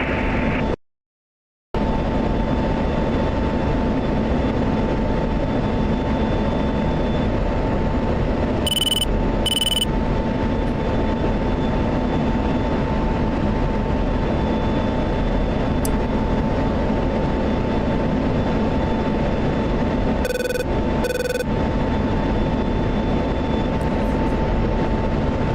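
An F-16 jet engine in a flight simulator game, a loud, steady drone that sounds close, broken by a brief dropout near the start and by two pairs of short beeping alert tones.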